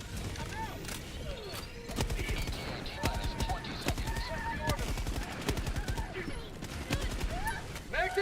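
Heavy autocannon fire in Helldivers 2, rapid bursts of loud booming shots hammering away over dense battle noise and explosions, with in-game callouts and voices mixed in.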